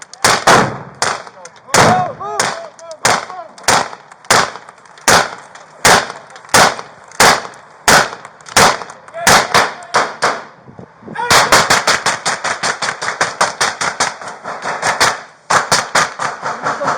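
Rapid gunfire during a police critical incident on Richey Blvd, a loud close volley of dozens of sharp shots in quick succession, briefly pausing then resuming in a denser burst, with shouting voices mixed in.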